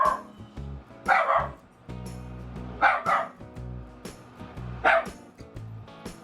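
A dog barks loudly in a kitchen in four sharp bursts spaced about two seconds apart, with a steady low hum underneath and no talking.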